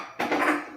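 A frying pan and dishes clatter briefly in the kitchen of a vacation house, a sudden close metallic knock followed by a short rattle of tableware.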